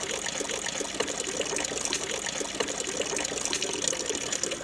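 Water is splashed and poured over a sleeping person to wake them, a continuous loud rushing and gushing that runs unbroken, with no talk.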